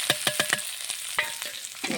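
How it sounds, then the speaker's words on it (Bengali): Onions frying in leftover fish-frying oil, with crackling sizzle and quick stirring scrapes in short bursts, close and fairly loud. "মাছ ভাজার তেলে পেঁয়াজগুলো ভেজে দেব।"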